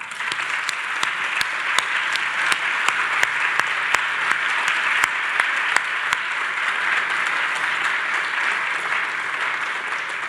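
An audience applauds guests in attendance at a lecture, a dense, steady wash of clapping from many hands that carries on for several seconds with a few sharper claps standing out.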